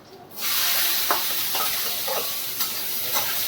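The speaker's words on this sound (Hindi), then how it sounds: "अब ये फ्राई कर लिया है अच्छे से" Chopped onions with a little green chilli sizzle and hiss steadily in a hot pan, a dense close frying sound broken by soft stirring scrapes.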